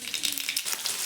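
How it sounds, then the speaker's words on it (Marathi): Mustard seeds and cumin sizzling in hot oil on a pan, a soft, steady crackle with tiny popping bursts, fairly quiet and close. "आता फोडणी देऊन घेऊ."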